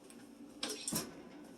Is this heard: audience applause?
no